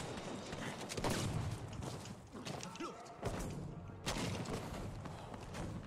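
A glancing shell hit on a tank in Battlefield V, heard as loud, broadband metallic thuds and crashing impacts, about three sharp bursts over a constant noisy rumble of battle.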